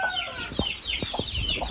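Chickens clucking in short, separate calls over steady background noise in a coop, fairly close and with no talking.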